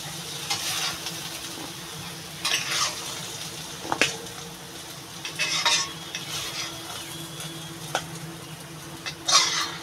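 Fried ash gourd with prawns is scooped out of the pan onto a plate, spatula scrapes and clinks arriving every second or two over a low steady hiss, close by, with no voices.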